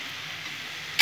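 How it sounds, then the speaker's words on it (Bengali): Bottle gourd being stirred with spices in a pan gives a steady, close sizzle with soft scraping, ending in a brief louder burst of hiss. "ভালো করে লাউটা আমি এখন নেড়ে নেব মশলার সাথে।"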